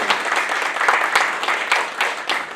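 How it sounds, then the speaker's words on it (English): An audience at a book launch applauds, a lively near clatter of many hands with uneven bursts and sharper individual claps standing out, with no speech over it. "Please have a good clap for her"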